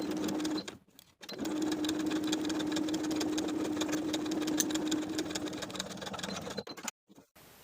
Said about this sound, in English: Sew the pinned edges for both pieces with a 1/2 inch seam allowance.